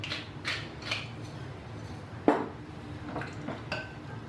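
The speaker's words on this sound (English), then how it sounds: "Stir that up." Spoon scraping and clinking in a bowl while stirring seasoned ceviche, several soft scrapes and one sharper clink midway, close and quiet with no talk.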